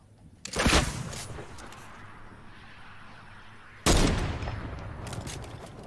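Gunfire from a Barrett sniper rifle in Fortnite, two loud sharp shots about three seconds apart, each trailing off into a fading echo over quiet game ambience, no talk.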